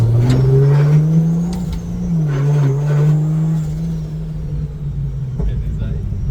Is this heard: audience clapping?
no